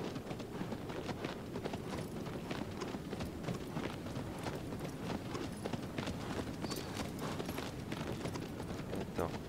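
A horse in Shadow of the Colossus gallops at a rapid, steady clip-clop for nearly ten seconds. Close, dense hoofbeats run continuously with faint mechanical rustle and no talk over them.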